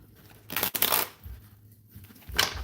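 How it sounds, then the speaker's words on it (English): Tarot cards are shuffled close by, giving soft rustling riffles and flicks in short irregular bursts, with no talking. "Good little shuffle going on here"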